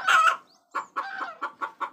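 Chickens in a farm shed cluck in a quick series of short, close calls, a longer squawk first, then evenly spaced clucks with brief gaps between them.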